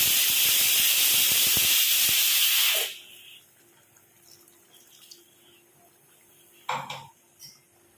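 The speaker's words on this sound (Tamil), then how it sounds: "இது ஒரு அஞ்சு நிமிஷம் கொதிக்கட்டும்" Drumstick kara kuzhambu (Tamil curry) boiling in a pot: a loud steamy hiss for a few seconds, then it cuts off, leaving a quiet simmer with a brief clatter near the end.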